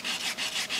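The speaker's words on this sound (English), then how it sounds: "you can see where I'm sanding through the edge right here" Sandpaper rasps back and forth against the wooden edge of an electric guitar body in steady strokes, about three passes, close and fairly loud with no talking.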